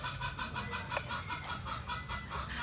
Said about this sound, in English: there's a lot of chicken laying eggs,